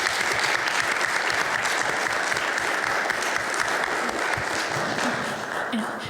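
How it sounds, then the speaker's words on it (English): Audience applause at a live podcast event at the CHEST 2024 conference, a steady, dense wash of clapping from a full room that holds for several seconds and eases slightly at the end. "Maybe we can all give a round of applause."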